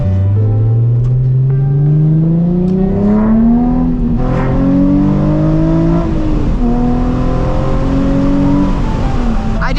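A Nissan 350Z HR at full throttle, its engine note climbing steadily through the gears with brief dips at each shift, loud and continuous from the cabin on a golden-hour drive in California.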